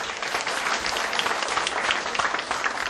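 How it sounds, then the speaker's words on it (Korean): Audience applause welcoming a guest lecturer to the stage, a steady, dense wash of many hands clapping at close range, sustained evenly throughout without voices. "큰 박수로 모시겠습니다"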